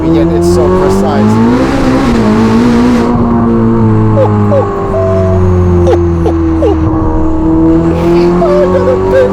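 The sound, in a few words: Novitec Ferrari SF90 Spider exhaust and tires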